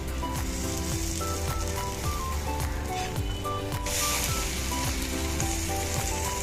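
An amaranth flour chilla sizzles steadily in a pan over a medium flame after being flipped, a dense, continuous crackling fry close by with no voices.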